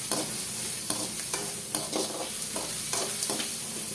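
Pressure keerai greens are stir-fried in a pan, giving a steady sizzle broken by repeated scraping strokes of a spatula, close up and with no talk.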